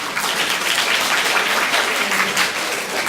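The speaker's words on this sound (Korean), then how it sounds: "박수 한번 다시 부탁드립니다" After a lecture on dental health insurance at a dental association event, the audience gives sustained applause, a thick, even roar of clapping hands that stays loud for a few seconds with no speech on top.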